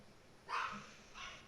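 Pet dogs give two short barks, the first louder and the second a little softer, heard at moderate distance indoors with no talking.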